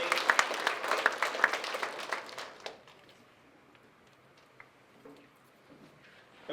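A big round of applause from the audience at a university speech showcase event, loud dense clapping for about two and a half seconds that quickly dies away to near silence with a few stray claps.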